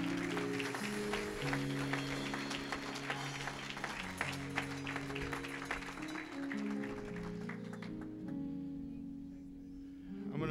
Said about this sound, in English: If God's been good to you, go ahead and give him another hand clap.